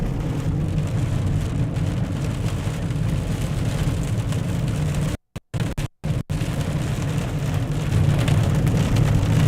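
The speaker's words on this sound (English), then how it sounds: "quite a bit of wind-driven rain" Heavy wind-driven rain during a severe thunderstorm south of Newton, a steady dense roar close by with a gusty low rumble, briefly cut out twice near the middle before resuming at full strength.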